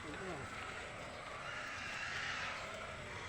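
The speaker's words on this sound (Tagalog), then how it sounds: "Mga baboy, maingay ang baboy." Pigs squeal in a shrill, noisy, continuous chorus, with people's voices mixed in the background.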